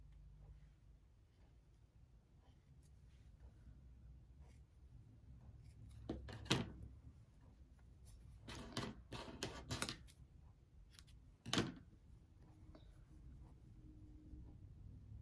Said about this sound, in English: I'm going to clip some of these corners so it's not as bulky when you flip it out